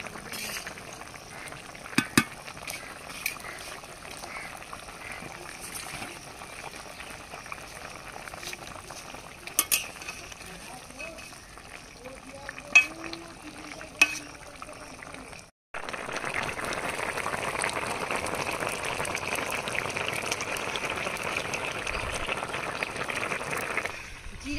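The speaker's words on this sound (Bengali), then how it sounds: "জিরা বাটা দিয়ে 2 মিনিট ফুটিয়ে নিয়েছি।" Shukto curry with cumin paste simmering in a pot, a soft continuous bubbling broken by a few sharp clinks, then a louder, steadier boil through the final stretch.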